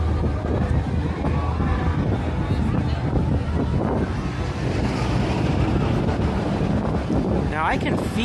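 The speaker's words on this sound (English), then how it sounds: "I can feel the wind." Wind gusts roar steadily across an outdoor spot at Disneyland, a loud, broad rush that buffets the microphone throughout, with faint crowd noise beneath.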